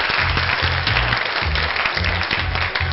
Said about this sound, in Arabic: تشجيع وتصفيق من الصالة